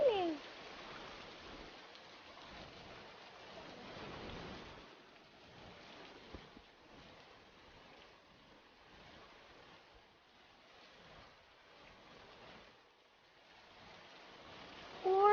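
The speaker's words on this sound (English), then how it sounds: "Oh, it's raining." Steady hiss of rain falling in a children's story, a continuous soft wash of noise at low level lasting throughout, with brief musical chimes at the start and end.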